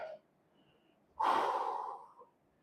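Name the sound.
heavy breathing after a workout set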